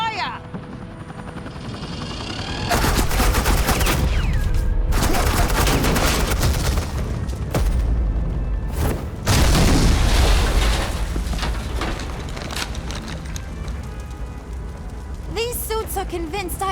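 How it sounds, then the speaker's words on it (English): Heavy sustained gunfire from the Batman The Enemy Within video game, dense bursts of shots with a rumbling mechanical drone, loud and continuous with brief pauses around the middle. "I said suppressing fire!"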